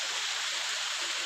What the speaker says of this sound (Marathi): एका छोट्याशा ओढ्यावर आम्ही आलो आहे बघा निसर्गाचा आवाज पाण्याचा आवाज